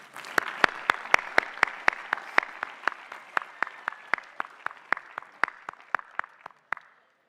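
Applause for master's degree recipients at a graduate commencement and doctoral hooding ceremony: a thin, sparse round of distinct hand claps in a steady rhythm, close and clear, lasting several seconds before stopping.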